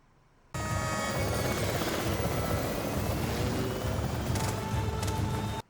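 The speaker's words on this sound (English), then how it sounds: "Now there's a helicopter." A helicopter passes overhead, a loud, steady rotor and engine roar that starts abruptly and holds at full strength for about five seconds with no talk over it.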